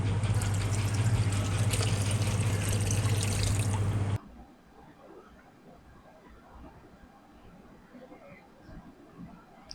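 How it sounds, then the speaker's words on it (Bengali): Water is poured into a simmering fish roe kofta curry masala of fried spices, a loud steady rushing pour for about four seconds that stops abruptly, leaving faint kitchen noise. "এরপর আমি এর মধ্যে দিয়ে দিচ্ছি পর্যাপ্ত পরিমাণে জল"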